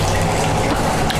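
Hot water gushes steadily out of a mash tun during batch sparging for a pumpkin ale homebrew, a loud, close, continuous rushing flow with no talk over it.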